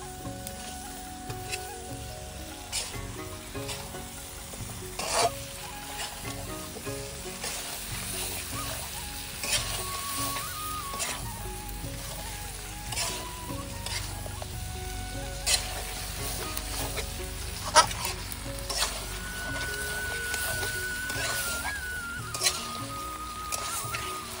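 Deshi country chicken curry with potatoes fries and is stirred in a pan: a steady close sizzle runs throughout, with repeated scraping stirs and clinks and no talking.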